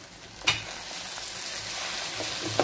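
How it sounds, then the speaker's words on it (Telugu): Ivy gourd (dondakaya) fries in an uncovered pan with a continuous close sizzle. A clack from stirring comes early, and a few light scrapes follow later. "ఇప్పుడు లిడ్ లేకుండా ఫ్రై చేస్తాను."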